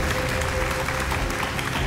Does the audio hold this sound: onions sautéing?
no